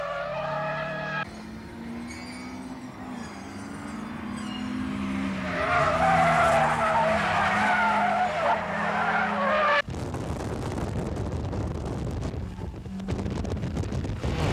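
Isuzu Gemini ZZ and Honda CR-X race cars in a 1.6-litre class track race, the CR-X suffering engine trouble; loud, sustained engine roar with rising revs and tire noise, interrupted by an abrupt cut, then continued close, steady engine and wind noise.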